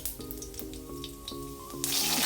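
Fennel seeds drop into hot oil in a kadai, and a sharp, bright sizzle bursts up near the end over a steady tonal background.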